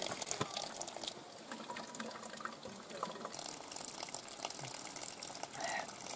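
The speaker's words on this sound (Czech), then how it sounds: "Vítěžku, tak mi dáš tu flašku, napustíme si trošku" Spring water from a forest well pours into a bottle, a continuous splashing, gushing trickle close by, with faint background sounds throughout.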